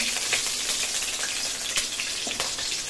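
Bay leaves sizzle in hot oil in a wok, a steady close hiss and crackle that runs unbroken throughout, with no talk over it.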